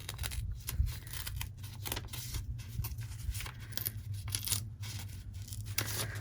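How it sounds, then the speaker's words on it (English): Paper is torn away from the sewn seams of a Square in a Square quilt block during paper piecing. The tearing comes as quiet, repeated short rips in a rough rhythm against a low background hum, with no talking. "I have 2 seams here that I have to go ahead and pop off the paper"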